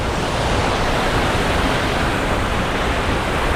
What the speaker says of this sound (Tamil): இந்த தண்ணி அப்படியே அடிச்சு ஊற்றி அங்கே போகுது